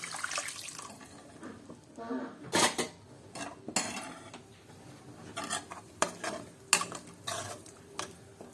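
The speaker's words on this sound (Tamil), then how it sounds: "இப்போ புளி தண்ணியை சேர்த்துக்கலாம்." Tamarind water goes into a pot of chepakalangkara kulambu and is stirred, with a ladle clinking and scraping against the pot in irregular bursts and faint splashing in a quiet kitchen.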